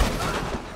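A single heavy elephant rifle shot from Red Dead Online booms out in a short, powerful blast with a brief rumbling tail.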